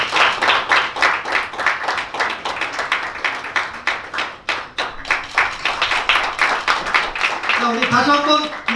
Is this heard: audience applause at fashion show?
yes